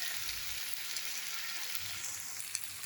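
Soybean chunks go into spiced masala frying in a pan for a vegetarian soya and potato curry, giving a faint, steady, even sizzle with no talking.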